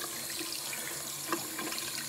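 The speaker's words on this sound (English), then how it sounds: "So now you want to run a little cold water over it." Cold tap water runs steadily over felted soap in a sink, a continuous close splashing stream heard alone without talk.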